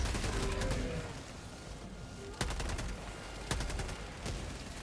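Grenade blasts in the Helldivers 2 video game, two sharp bursts landing around the 2.4 and 3.5 second marks over steady rumbling battle noise and scattered gunfire, with no voices over them.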